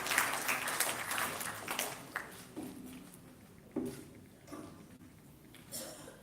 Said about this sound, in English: let's give a round of applause to our guest of honor, Yang Muhammad Tuan Edin Shahli